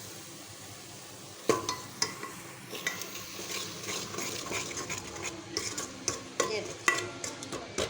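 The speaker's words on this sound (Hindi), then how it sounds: "टमाटर का पेस्ट इसको डाल के थोड़ी सी देर हम इसकी भुनाई करेंगे" White chickpeas with tomato paste and ketchup stir-fried in a pan, a soft continuous sizzle broken by repeated spoon scrapes and clinks against the metal, fairly quiet and close, with a brief spoken word.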